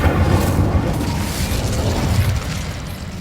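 Incendio fire spell cast in Hogwarts Legacy, a loud, dense booming blast with a rumbling low roar that holds for about three seconds and then thins out, no speech.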